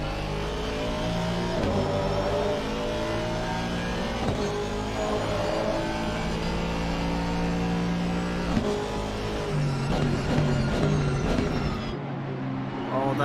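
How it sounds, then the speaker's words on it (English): An Aston Martin GT3 race car at Indianapolis, heard on board at full throttle: a loud, continuous engine note rising through the revs with several sharp upshifts, the pitch dropping and climbing again with each gear. "It's no V12, but that Aston does sound very good still."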